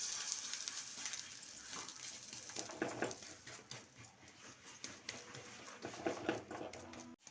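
Rice flour roti frying in hot oil in a pan, with a steady crackling sizzle and scattered pops and clicks throughout, fairly close.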